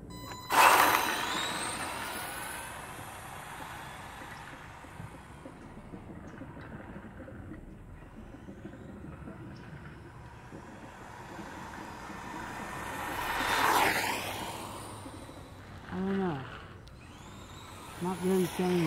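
An ECX Torment RC car fitted with a 550 12t brushed motor races by, its high whine swelling and fading on a couple of passes, while people chat in the background between runs.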